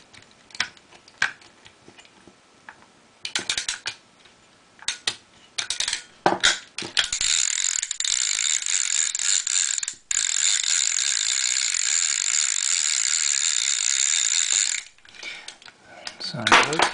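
Vintage Daiwa Sealine 50H sea fishing reel, heard first as scattered clicks and handling, then a long, steady buzzing ratchet run that stops briefly and resumes before ending, close and fairly faint.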